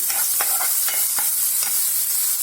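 Ginger garlic paste sautéing in a pan, with a steady close sizzle and a few quick stirring scrapes through it, loud and without speech.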